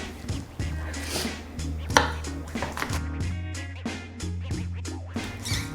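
Small onions cut with a knife on a board, with irregular close chops and scrapes over a steady low hum of background music.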